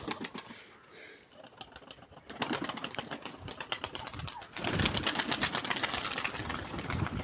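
Domestic pigeons play near their loft, their wings beating in rapid rhythmic flurries that come close and loud, pause briefly, then return in a longer, stronger burst.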